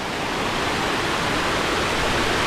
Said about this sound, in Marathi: ह्या कोपऱ्यावरती वॉटरफॉल आहे